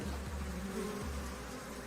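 Swarm of Africanized killer bees buzzing during a bee removal, a dense, steady drone that stays loud and close throughout without pause.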